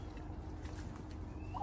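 Turkeys gobbling in an autumn fruit-harvest food forest, a low, fairly faint warbling gobble over steady outdoor background noise, with no talk.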